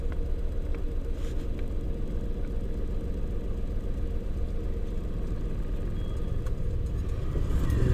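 Car engine idling and rumbling steadily as a learner driver releases the handbrake and clutch, a low, continuous near drone with a slight rise toward the end.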